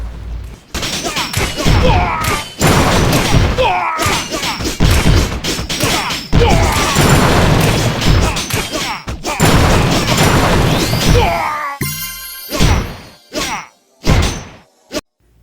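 A Clash of Clans raid with giants and barbarians attacking: dense bursts of game combat, crashing hits, smashes and booms in rapid volleys, loud and continuous, thinning into scattered impacts near the end.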